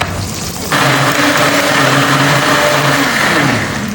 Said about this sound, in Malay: Kita nak kisar bawang besar yang sebiji lagi ni tadi, bawang putih, cili merah dan halia